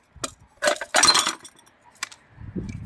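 Headlight glass cracking and breaking out of a Bizon tractor headlamp during repair, several close, sharp crunching clinks in quick bursts, followed by faint rattling of the loose pieces.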